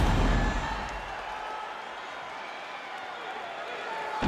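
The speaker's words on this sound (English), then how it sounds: "the crowd voicing its appreciation after that round" A crowd applauds and murmurs after a round in the UFC 5 fighting video game, with a steady wash of clapping and arena noise that is loudest at the start and then evens out.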